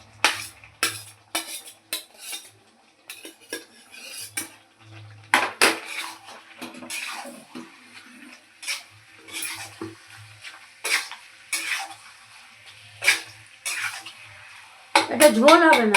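Cabbage and soybean chunks are stir-fried in a pan for a vegetarian curry, with repeated scraping and clattering strokes of a spatula against metal in an irregular rhythm, mostly alone with faint background noise.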